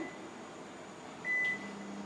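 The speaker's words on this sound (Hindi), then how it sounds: "तो हम यहाँ पे हायर की इस हुड को ऑन कर लेते हैं। तो इसको हम ऑन करते हैं" A Haier kitchen range hood is switched on: a single clear electronic beep, then a low steady motor hum starts and continues under faint room noise.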